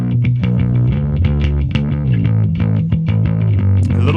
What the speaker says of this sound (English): So yeah, that bass guitar sounds like this.